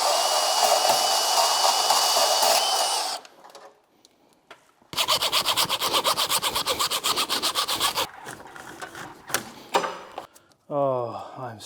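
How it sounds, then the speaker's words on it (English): Armoured electrical cable being stripped after removing an old gland: a loud rough rasping, then rapid repeated sawing strokes with short pauses, close up, with brief talk near the end. "I'll remove the old gland and start stripping this armoured."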